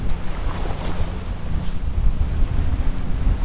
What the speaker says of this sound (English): Trying to cast straight out into that wind.